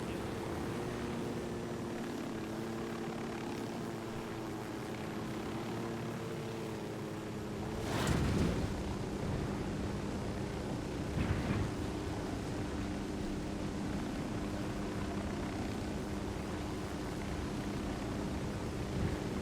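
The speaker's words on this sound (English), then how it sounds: "I'm gonna bring down my chopper." Helicopter coming in to land in the shooter game Tom Clancy's Ghost Recon Wildlands, a continuous loud rotor and engine drone with a surge and thumps as it touches down.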